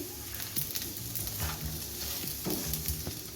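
Potatoes sizzle in ghee in a pan on low heat while a spoon stirs them with salt, giving steady close frying crackle broken by several scraping stir strokes.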